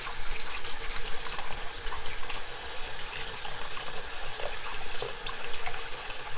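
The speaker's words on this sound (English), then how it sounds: "Then I rinse, and I will go through that process in just a minute." Steady running tap water from a sink while makeup brushes are rinsed, a continuous broadband splashing wash with no talking.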